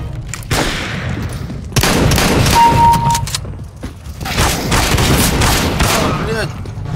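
Rapid gunfire bursts in a CS:GO Arms Race match, loud and close, with several heavy volleys separated by brief lulls while a player talks.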